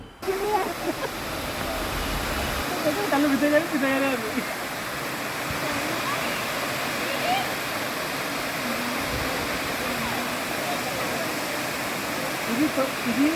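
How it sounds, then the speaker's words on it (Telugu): Continuous roar of a waterfall, broad and steady throughout, with people talking faintly beneath the rushing water. "వాటర్ ఫాల్స్ మన దగ్గరలోనే ఉన్నాయి"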